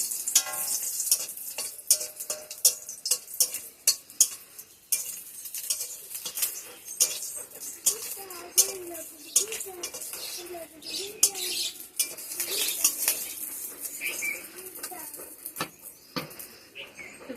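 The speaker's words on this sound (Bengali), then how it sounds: "তো সবাই প্রথমে আমি শুকনো লঙ্কাটা ভেজে দিই" Dried red chillies frying in oil in a pan with a soft sizzle, punctuated by frequent metallic clicks and scrapes of a spoon stirring, close by, with some faint chirping in the background.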